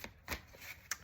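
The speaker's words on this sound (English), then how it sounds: "I'm shuffling my cards" Tarot cards shuffled by hand during a reading session, giving three brief riffling bursts spaced through the moment, quiet and close with no voice over them.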